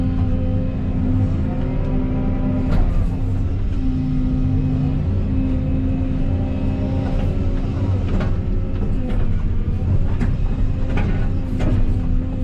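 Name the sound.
old Volvo engine running rough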